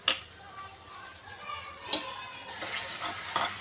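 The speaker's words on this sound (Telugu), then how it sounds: "ఒక 2 ఆనియన్స్ కట్ చేసినవి ఆనియన్స్ వేసి ఇవి మంచిగా" Two chopped onions frying in oil in a pan for chicken fried rice, a steady soft sizzle with occasional sharper crackles and stirring noises, fairly close and moderately quiet.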